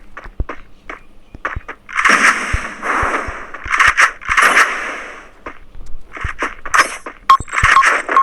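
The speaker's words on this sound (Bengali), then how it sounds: "এখন এখানে আইস গ্রেনেড মারব।" An ice grenade thrown in a shooter video game gives off crackling, glassy clinks and sharp snaps over a steady icy hiss, with scattered clicks around it, close and fairly loud.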